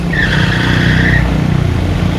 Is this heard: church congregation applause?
no